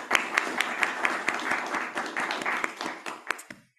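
Clapping over a video call, a quick run of sharp hand claps, fairly close and steady for a few seconds before stopping abruptly, with faint room noise underneath.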